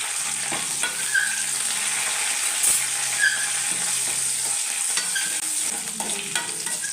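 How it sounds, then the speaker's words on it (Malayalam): Curry leaves and small onions sauté in hot oil in a pan, a steady close sizzle and crackle with occasional stirring scrapes, no talking. "ചെറുതായിട്ട് ഇങ്ങനെ ഒന്ന് വഴണ്ട് ചെറിയ ബ്രൗൺ കളറായിട്ട് ഈ ഇലയൊക്കെ ഈ കരിയാപ്പിലയൊക്കെ ഒന്ന് വാടണം നന്നായിട്ടൊന്ന്."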